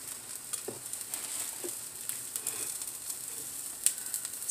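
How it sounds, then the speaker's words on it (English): Steady crackling sizzle of a burger patty frying in a pan, with small pops and spits scattered throughout, close and continuous. "So my burger is sizzling away"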